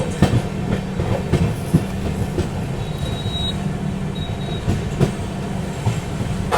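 East Coast Express train rolling along the rails, a loud steady rumble with rhythmic clickety-clack wheel beats and brief high wheel squeals.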